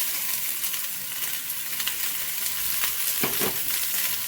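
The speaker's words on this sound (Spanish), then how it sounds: "vamos a freír esto por aproximadamente unos 5 minutos" Onion and celery fry in olive oil with a loud, even sizzle that fills the whole stretch, plus a couple of soft knocks from a utensil toward the end.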